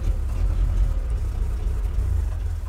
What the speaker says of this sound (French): L'avantage d'une 24 volts, c'est que ça démarre super facilement